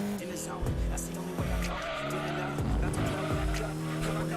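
An Alfa 156 family sedan races in Gran Turismo 2, its engine revving and rising through repeated gear shifts amid tire squeal. A voice talks over it throughout.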